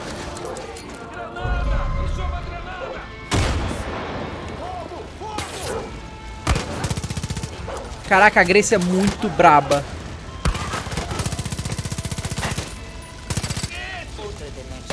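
Bursts of automatic gunfire from the video game Far Cry crackle in several loud volleys across the scene, mixed with impacts and someone talking over the action.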